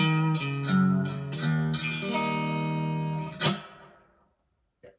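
An electric guitar played through a Spark amp on a Vibe patch, a short phrase of sustained, effect-laden chords with a wavering modulated shimmer, ending on a final struck chord that rings out and fades.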